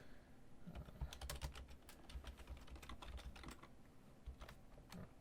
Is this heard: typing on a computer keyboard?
yes